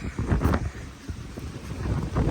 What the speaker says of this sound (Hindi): बहुत ही ज़्यादा तेज़ हवा है।